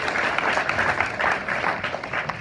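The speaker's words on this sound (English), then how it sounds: "go ahead, we can clap for the parents, guys" An audience claps for the parents at a school gathering, a sustained, even wash of many hands clapping at moderate loudness, steady throughout without talk.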